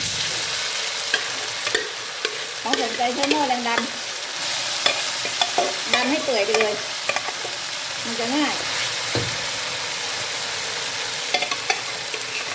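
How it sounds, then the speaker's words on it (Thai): Steady sizzling of split mung bean filling stir-fried in hot oil with stirring scrapes, continuous throughout, while someone talks over it. "มาผัดน้ำมันนะ ทำไส้"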